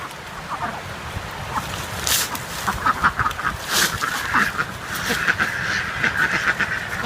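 Several ducks quack repeatedly at close range, overlapping one another against a steady outdoor background hiss.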